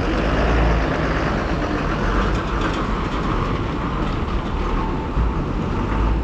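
An MSRTC state transport bus for Nashik pulls out of the Jalgaon bus stand, its diesel engine a steady, close, rumbling drone that fills the whole stretch, with no voices.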